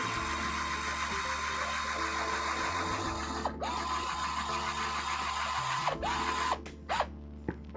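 Screws being power-driven into 3D-printed plastic parts for a MOG RC truck kit, a steady whirring drill-like drone with short pauses and mechanical clicks between drives, fairly close and continuous.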